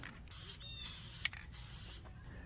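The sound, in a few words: spray adhesive can spraying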